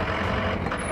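A vehicle being pulled over to the roadside on a traffic stop gives a close, loud, steady engine rumble with dense noise and no voices during one brief second.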